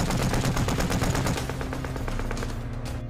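Sustained rapid gunfire from a World War II battle scene in a Soviet sniper war film, dense fast bursts of shots that stay loud throughout and ease slightly toward the end.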